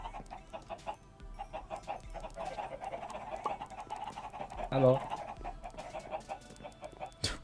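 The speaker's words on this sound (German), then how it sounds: "Boah, wie viele Hühner du hast." Many chickens in Minecraft, scattered clucks and short fowl calls popping up repeatedly, with a voice briefly speaking and game background sounds mixed in.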